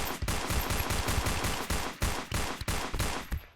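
A mag dump in the video game Space Station 14 rips out as a loud, rapid stream of gunshots in several quick bursts, with short gaps between them, and no other sound.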